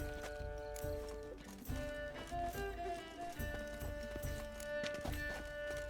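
Horse hooves clip-clop at a steady walking rhythm in The Witcher 3, sitting under a layer of game music with sustained tones.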